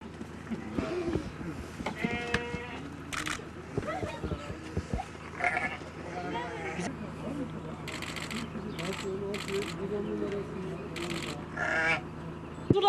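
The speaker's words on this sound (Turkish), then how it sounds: "Kuzun tatlılığına bak ya" Lambs bleat in a rural livestock setting, several short cries scattered over the clip amid people talking and moving about nearby.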